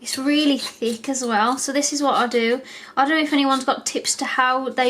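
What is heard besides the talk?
No distinct noise like a dog, phone or traffic.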